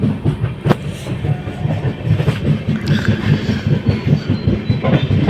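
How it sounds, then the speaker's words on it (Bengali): An Intercity Express running from New Jalpaiguri towards Guwahati rumbles steadily along the rails, heard from inside a new LHB coach, with a continuous loud rhythmic clickety-clack. "আর এখন শানদার ট্রেন জার্নি ভাই, মনে হচ্ছে লাইফে একটা সেরা ট্রেন জার্নি করলাম"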